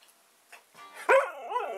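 A dog gives a sharp bark followed by a drawn-out whining yip, fairly close and loud, with quieter shuffling before it and no talking.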